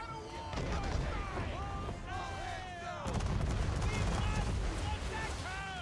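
Naval cannons fire in Assassin's Creed 3 during a sea battle, low booming blasts rolling under music and game voices, with a heavier burst of shots partway through.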